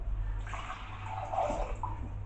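Water pours and splashes into a blender for a couple of seconds, a gentle gurgling stream over a low hum.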